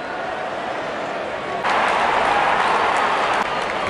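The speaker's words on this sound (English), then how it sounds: "Openers walking in and the crowd cheering in anticipation." Cricket crowd at an England versus Sri Lanka Test match cheering as the opening batsmen walk out, a steady broad roar that swells louder midway and holds before easing slightly.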